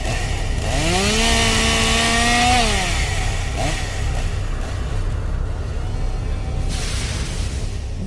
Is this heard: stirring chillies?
no